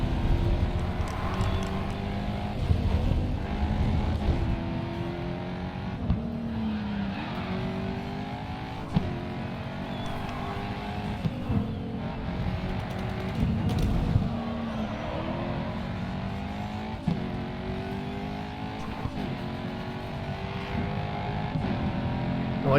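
Race car in the Grid 2 video game roars continuously at high revs, its pitch climbing and dropping sharply as it runs through repeated upshifts, with a dense, steady engine drone throughout.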